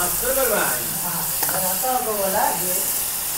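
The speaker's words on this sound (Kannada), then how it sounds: "ಆನಿಯನ್ ಚೆನ್ನಾಗಿ ಫ್ರೈ ಆಯಿತು" Onion frying in ghee in a pan at a campsite, a steady close sizzle and hiss running continuously while a voice talks over it.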